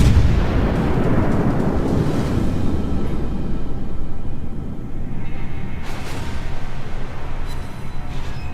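Ten 203mm cruiser guns fire together in World of Warships, starting with a heavy booming salvo that rolls into a sustained, loud rumble. Further cracks and blasts sound around six and eight seconds.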